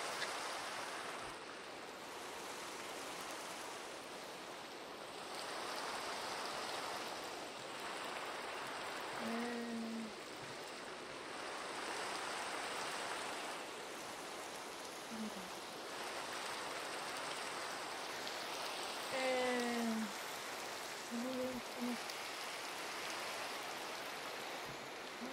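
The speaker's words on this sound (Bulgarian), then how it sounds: "Да, почна вали." Steady rain falls in Minecraft, a continuous broadband hiss holding at an even level throughout, with a few brief low tonal game sounds scattered across the middle and end.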